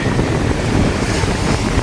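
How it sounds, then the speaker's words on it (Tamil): Storm-driven waves crash onto the shore in Jaffna during a cyclone under a red warning, with heavy wind roaring against the microphone as a loud, continuous rush with no clear breaks. "இந்த அலையை பாருங்க எப்படி அடிக்க."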